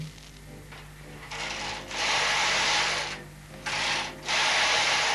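A Bond hand knitting machine makes bursts of rasping, whooshing friction as the carriage is pushed across the needle bed. The strokes are close and alternate with brief quieter pauses, and no one speaks.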